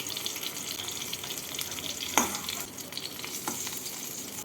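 Eggs fry in white oil in a wok, a steady close sizzle with a sharp clink of a utensil midway as they are lifted out.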